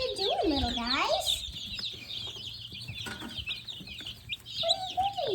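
Young chickens being moved from a brooder to chicken tractors on a farm, clucking and peeping with sharp rising calls up close, over a low background hum and brief human sounds.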